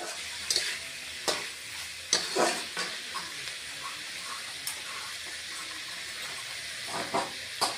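Fish curry masala with green chili paste sizzles steadily in a pan for a rui macher jhol, with irregular sharp spatula scrapes and knocks scattered over the frying and no speech.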